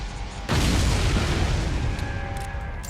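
Cannon fire in the video game Resident Evil 4 lands as a sudden loud boom that rolls into a sustained heavy rumble lasting a couple of seconds, with faint game tones lingering beneath.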